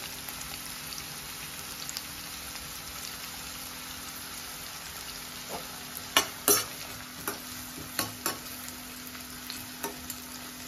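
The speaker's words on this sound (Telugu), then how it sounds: "పచ్చిమిర్చి కానీ 1 నిమిషం అట్లా ఫ్రై చేయాలి" Green chillies frying in a pan after onions for Hyderabadi chicken majestic, a quiet constant sizzle with a cluster of distinct spoon clacks and scrapes in the second half, no talking.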